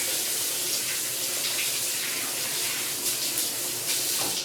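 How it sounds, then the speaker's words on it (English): Tap water runs steadily into a sink as oil is rinsed off hands, a continuous close splashing hiss with no talk. "Rinse some oil off my hands real quick."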